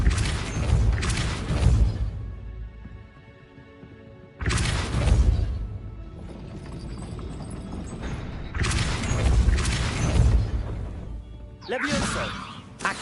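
The Depulso repelling spell in Hogwarts Legacy goes off in loud bursts with crashing, thumping impacts, three big blasts separated by quieter gaps, and a voice speaks between them.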